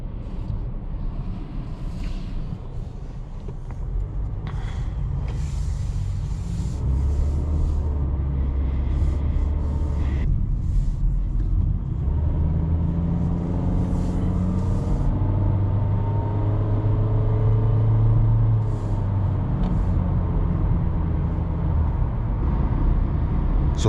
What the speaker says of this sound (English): let's take the car for a ride and see how the engine performs